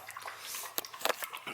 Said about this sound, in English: She's drinking some water.